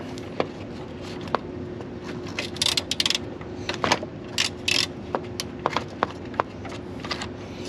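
A wrench working a 10 mm bolt loose from the A/C lines of a BMW E46 with an M54B25 engine: sharp metallic ratcheting clicks and clinks, scattered and irregular over a steady background hum, close up, no talking.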